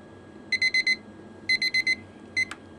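A digital timer alarm goes off during a transistor heat test for an EMF lamp, beeping in quick clusters of four: two clear bursts, then a short third, loud and close with no one talking.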